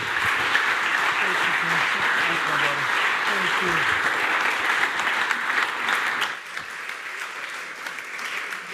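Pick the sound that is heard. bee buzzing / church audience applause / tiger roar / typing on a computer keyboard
church audience applause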